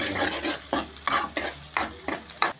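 Oil sizzles and fries in a pan while a spoon stirs it in regular scraping strokes, preparing a boiled egg fry curry; close and steady, with no talking.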